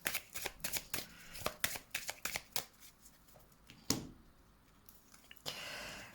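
Tarot cards are shuffled by hand before a draw: a rapid series of crisp, close riffles and flicks, followed by a short sliding swish as the deck settles.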